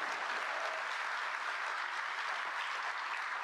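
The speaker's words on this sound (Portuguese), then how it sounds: "Uma salva de palmas para a nossa ministra Margarete Menezes." Sustained applause from an audience at a Brazilian government event honouring culture minister Margareth Menezes, a steady dense wash of clapping filling the whole stretch without voices.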